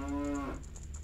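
A single low cow moo sounds in the video game Zelda: Majora's Mask, a short clear tonal call lasting about half a second before fading into game background ambience.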